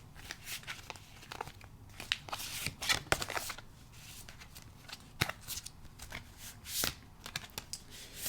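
Oracle cards are shuffled by hand in a close, uneven series of papery riffles, slaps and flicks, with no talking.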